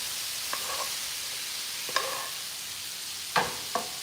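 Peppers, onions and mushrooms fry quietly in a pan, a soft steady sizzle broken by a few brief stirring scrapes, heard alone without voices.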